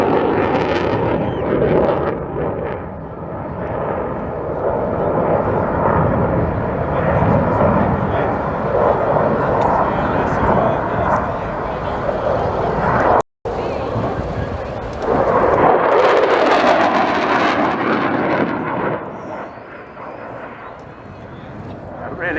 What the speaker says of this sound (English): Really good indication there of the length of the runway here, the high-speed pass.